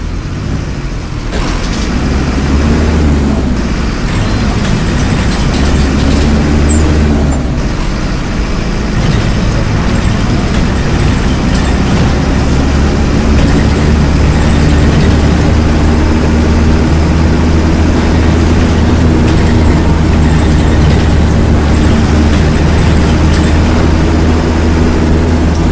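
A 2007 Marcopolo Torino city bus on a Mercedes-Benz OF-1721 chassis, running route 027 Siqueira/Papicu, drones with a steady, loud, low engine rumble that carries unbroken throughout, with no talk over it.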